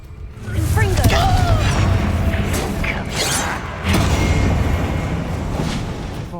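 Blasting-spell explosions in the Hogwarts Legacy video game, a couple of deep booming impacts with crackling debris amid combat noise, under voices of characters talking.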